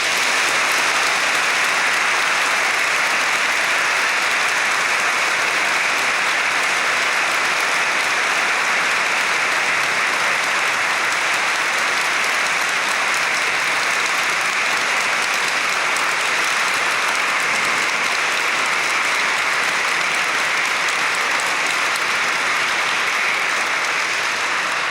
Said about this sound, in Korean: 이 박수 소리가 저쪽에 하면 좋겠네.